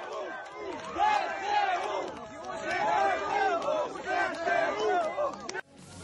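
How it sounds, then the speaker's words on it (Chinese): A big street crowd in Kherson cheers and shouts together, waves of massed voices and chant-like calls swelling and falling, loud and near, cutting off abruptly at the end. "大批民众聚集在街上欢呼庆祝。"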